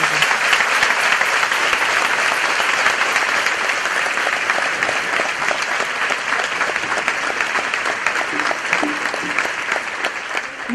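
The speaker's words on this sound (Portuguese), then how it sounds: "Recebamos a nossa irmã Maria Luísa com um fortíssimo aplauso" An audience at a church service claps continuously and loudly for several seconds, a dense, steady wash of applause with no pauses.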